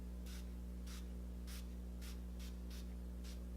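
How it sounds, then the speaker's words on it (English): Project Beauty Spray.Set.Go setting spray misted onto a face: seven short pump hisses, evenly spaced, close and soft, over a steady low background hum. "Since I'm out of my Milani setting spray, I'm using my Project Beauty Spray.Set.Go that I got in a previous BoxyCharm."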